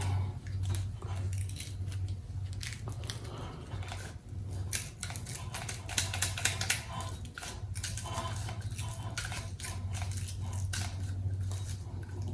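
Blade trimming material during a winch upgrade on a Jeep, heard as irregular scraping and snipping strokes close by over a steady low hum, with a few sharper clicks midway.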